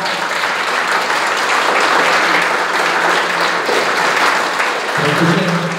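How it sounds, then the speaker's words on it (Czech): An audience applauds the Ostrava team at the national final of a biology olympiad, a dense, steady wash of clapping that fills the room throughout. "to je potlesk pro Ostravu"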